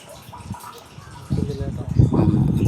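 Water pours into an overhead storage tank, filled by a motor-driven pump that switches on when the float drops. A low splashing gush swells louder partway through, while someone speaks over it.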